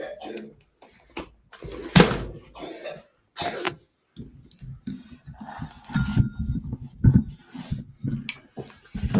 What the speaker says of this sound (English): I just hear my son coughing.